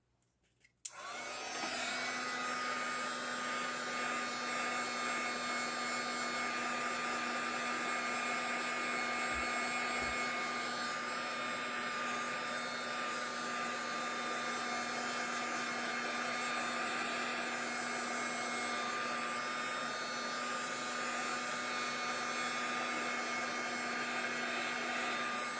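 A hair dryer clicks on and blows steadily and loudly at close range for over twenty seconds, drying an altered timecard craft project, with a constant whirring hum and airy rush throughout.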